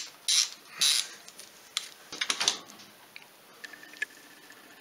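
A ratchet works on the bolts of a Polaris 500 engine during camshaft removal, giving short bursts of clicking with a few separate ticks and small metallic knocks, close and fairly quiet.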